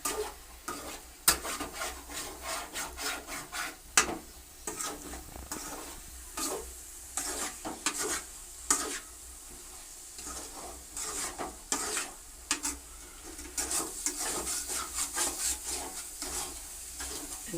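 Four thick onions and a handful of green chillies are stirred in a hot pan: repeated scraping strokes of a spatula over a soft sizzle, irregular in rhythm and close by, with no voices.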